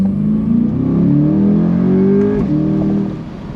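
A 2023 Chevrolet C8 Corvette's LT2 pushrod V8 revs up close and loud, its pitch climbing smoothly in a steady, linear sweep before easing off, with no one talking.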